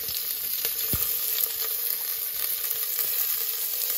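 Chili and garlic sizzle in a pan for khichadi, a bright, constant hiss with a few sharp pops and clicks, close and steady, with no talking.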